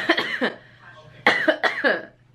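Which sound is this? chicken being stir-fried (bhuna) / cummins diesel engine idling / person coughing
person coughing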